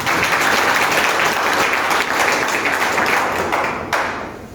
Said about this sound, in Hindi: अक्सर सर्कल में एक बार जोरदार ताली चाहूँगा।